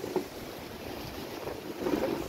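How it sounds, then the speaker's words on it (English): Steady wind rushing and buffeting on a beach at night, with a low roar of surf or water underneath and no talking. "it's a very windy night"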